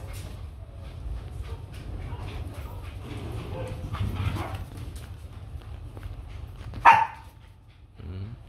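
A young white fluffy Bac Ha dog gives a single sharp bark late on, standing out from a constant low background rumble and faint indistinct sounds.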